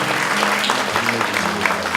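Brief burst of steady crowd clapping at a retirement and inauguration thanksgiving service for an orphanage director, heard over low sustained music tones.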